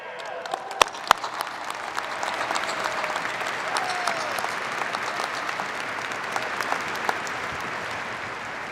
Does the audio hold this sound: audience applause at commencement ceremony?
yes